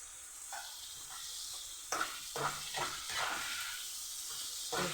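Fish heads cooking in hot oil with tamarind and green chili, a close crackling sizzle broken by several bursts of stirring scrapes and louder spits.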